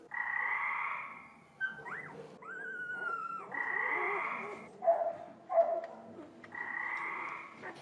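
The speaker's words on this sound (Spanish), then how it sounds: "Iniciamos con el sonido de la rana." Recorded frog croaks played back for puppies, repeated in bursts over several seconds, with higher whistling and chirping calls between them, moderately loud against a quiet background.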